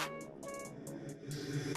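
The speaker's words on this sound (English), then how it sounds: "Plus we got this reverb of him saying thick." A reversed, reverb-drenched vocal sample of a single word swells in short smeared bursts, quiet and washy, with a backwards tail rising into each hit.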